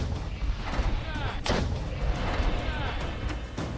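Bombardment in the centre of Donetsk city during the war in Ukraine: dense, continuous booming and crashing with one sharp blast standing out midway, a voice speaking faintly underneath.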